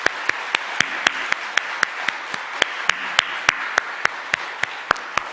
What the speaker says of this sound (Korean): 박수로 한번 영광 돌려볼까요?